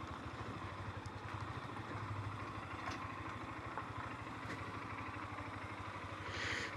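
A Honda CB200X motorcycle idles nearby with a steady, even engine putter that holds unchanged throughout, with no voices.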